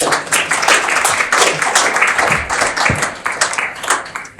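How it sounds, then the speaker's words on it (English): Audience at a launch event applauding, with clearly separated claps forming an uneven, lively patter at close range that holds steady for several seconds. "So please give a round of applause to Eileen"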